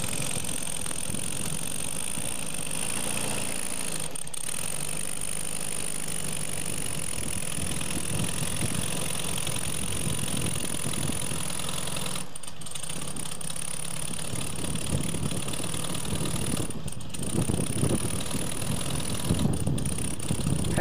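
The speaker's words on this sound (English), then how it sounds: "that's the beautiful sound of a Volkswagen Beetle that's been taken well care of" A well-kept 1971 Volkswagen Karmann Ghia convertible's air-cooled engine idling steadily, a continuous rough low rumble heard up close, with a few short dropouts along the way.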